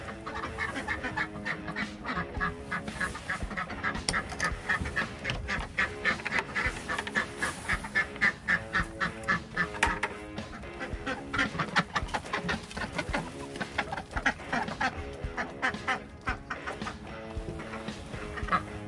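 A group of ducks quacks loudly and continuously, close by, as they search for a slug set out for them. The calls overlap in a dense, busy chorus with no pauses.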